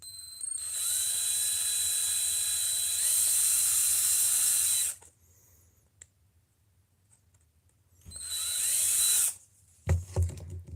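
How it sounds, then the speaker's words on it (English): A high-pitched electric drill whines steadily for several seconds, stops, then runs again in a shorter burst, followed by a few clicks and knocks. "it easier for me to drill the holes and let the drill bit not run around"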